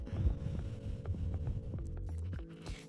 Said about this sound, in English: I'm getting a lot of noise from the air conditioner